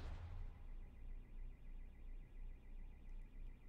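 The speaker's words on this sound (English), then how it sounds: "Car alarm, car alarm. Can you hear it?" A car alarm sounds faintly in the distance outside, its repeating siren cycling in a steady rhythmic wail under a low background rumble.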